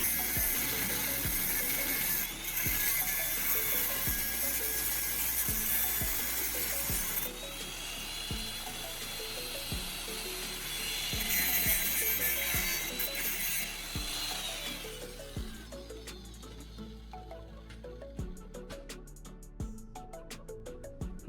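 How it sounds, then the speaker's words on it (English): Angle grinder cutting through a metal rake head, a loud steady high whine with shifting pitch that runs for about fifteen seconds, then stops, leaving sharp metallic clicks and clatter. "My first step is to get an angle grinder. I'm carefully cutting off the rake head."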